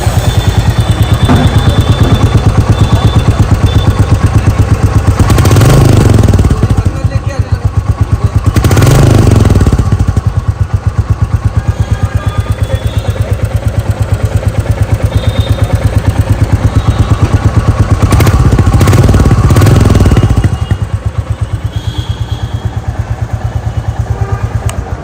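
A Royal Enfield Bullet 350 Battalion Black motorcycle engine runs steadily at close range, a loud continuous thumping idle with a couple of brief revs, with no talk over it.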